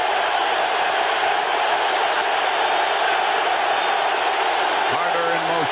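A football stadium crowd at a San Francisco 49ers at LA Raiders game roars in a dense, loud, continuous wall of noise that never lets up.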